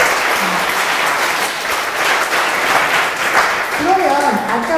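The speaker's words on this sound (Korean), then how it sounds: "박수 한번" Audience applause at a Korean talk event on reunification, a steady wash of clapping from a room of listeners lasting several seconds, with a voice briefly heard near the end.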